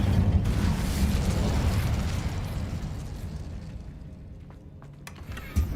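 Incendio fire spell cast in the Hogwarts Legacy video game: a broad, roaring whoosh of flame, loud and sustained at first, then fading down, with a sharp pop near the end.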